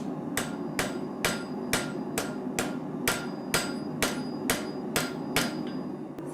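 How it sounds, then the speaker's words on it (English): A blacksmith hammers steel on an anvil in a forge, ringing blows struck at a steady, even pace, about a dozen strikes close up over a low background hum. "it's about an hour of in and out of the forge, hammering on the anvil, working on the shape"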